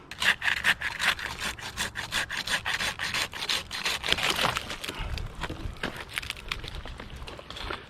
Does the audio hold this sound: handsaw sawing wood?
yes